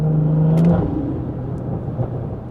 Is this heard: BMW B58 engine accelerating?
yes